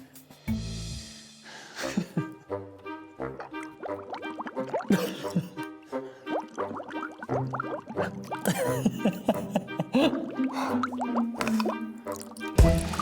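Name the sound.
bobbing for apples floating in water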